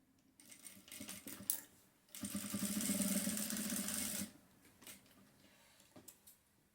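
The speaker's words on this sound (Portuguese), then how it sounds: "E vou fixar em cima dessa clarinha com um pezinho de máquina." A sewing machine runs in one steady burst of about two seconds, stitching a patch onto a pale denim scrap. Quieter handling knocks come before and after it.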